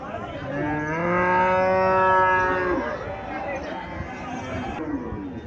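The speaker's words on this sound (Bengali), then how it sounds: "এখানে একটা গাভী দেখা যাচ্ছে" An Indian Haryana breed dairy cow gives one long, loud, drawn-out moo, then a shorter, lower moo follows, with people chattering in the background.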